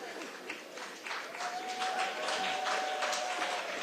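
Audience applause at a Texas 18th Congressional District debate, a moderate spread of clapping from a crowd that swells and holds steady, with a faint tone and some voice underneath.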